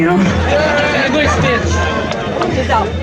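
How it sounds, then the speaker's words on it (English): Protest crowd on Parliament Hill in Ottawa, a close, steady babble of many voices chattering at once, with a low hum running underneath. "This is an awesome crowd."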